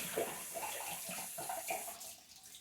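Hot water runs steadily from a tap into a basin during a facial routine, a continuous close splashing rush with slight shifts in flow and no voices over it.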